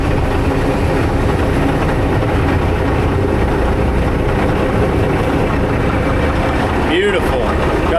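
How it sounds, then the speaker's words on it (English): A Caterpillar D9 bulldozer engine idles steadily with a dense low rumble throughout, near and continuous, with a brief higher mechanical whine near the end. "Got the D9 fired up and even found a mucker."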